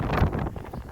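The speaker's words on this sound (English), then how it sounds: "Mid to low 40s and windy, and it's going to be windy up where I'm going." Gusty wind blows on an open hiking trail in the hills south of Tehachapi, buffeting the microphone with a low, steady rumble for a brief moment.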